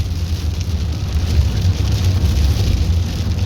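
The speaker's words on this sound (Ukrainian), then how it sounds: "Дощ іде, злива тут якраз якраз іде нормально." Heavy rain downpour pours in a continuous, dense hiss, drumming steadily on a surface with a low rumble underneath, as if heard from inside a moving vehicle driving through a town.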